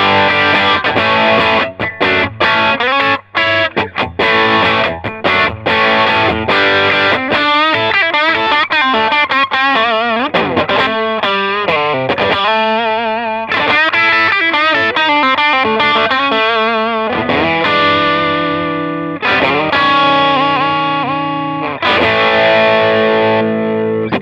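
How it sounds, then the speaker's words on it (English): Sterling Mariposa electric guitar played through a Cherrytone Centura pedal with the gain about halfway, giving a loud crunchy overdriven tone across strummed chords and ringing single-note lines that continue steadily throughout. "So now we're going to look at a bit of a crunch tone. I've got my Cherrytone Centura kicked on with the gain dialed up about halfway."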